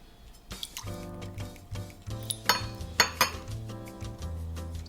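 Liquid seasonings of sake, vinegar, soy sauce and sugar are poured and mixed in a small bowl, close up, with clinks of utensil against the bowl and soft splashes over a faint musical backdrop.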